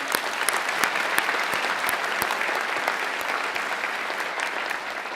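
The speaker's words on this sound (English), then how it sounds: "So let's give him a big round of applause, Mike." Sustained audience applause at a dental school white coat ceremony, dense and even clapping from a large seated crowd that holds steady and eases off slightly toward the end.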